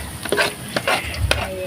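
Garlic and onion sautéing in a pan for bihon with sardines, a soft sizzle under repeated scraping stirs of a utensil, close and fairly loud.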